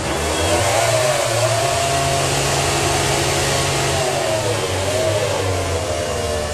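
A MotoGP motorcycle at the 2015 Valencia race holds a loud, sustained rev during a post-race burnout that fills the air with tyre smoke, its engine note wavering slightly over a dense, harsh roar with no speech.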